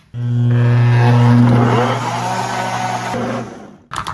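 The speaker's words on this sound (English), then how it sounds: "a little bit of water just to help the blender move" A blender roars loudly and steadily for several seconds, blending peppers with water, its motor pitch wavering as it churns, then cuts off with a short clatter.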